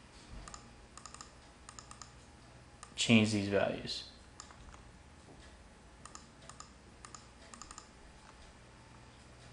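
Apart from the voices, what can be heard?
computer mouse clicking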